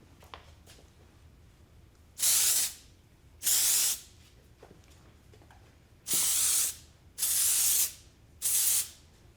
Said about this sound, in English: I'm just going to spray this all over her hair